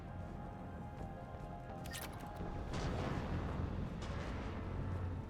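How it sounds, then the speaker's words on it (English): Heavy cannons in the Mass Effect Legendary Edition video game boom amid dense battle noise, with a sharp crack partway through and a louder rumbling wash taking over for the rest. "Those cannons have to be stopped."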